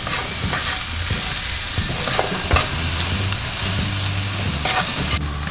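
Salmon and vegetables frying in a pan, producing a loud continuous sizzle close by with a spatula scraping and stirring in bursts throughout, and no voices.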